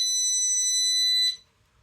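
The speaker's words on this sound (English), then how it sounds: "You can also use this as a stud detector as well." An electronic cable tracer used as a stud detector gives one steady high-pitched electronic tone that lasts a little over a second and then cuts off abruptly, close and clear with no talk.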